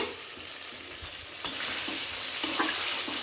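Pointed gourd frying in a pan for a fish and potato curry, stirred with a steady close sizzle and occasional louder scrapes of the spoon, no voices.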